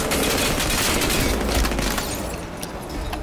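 Gunfire and explosive booms in the video game Crysis 2, a dense continuous barrage of shots and rumbling blasts that stays loud throughout and thins slightly toward the end, with no voices.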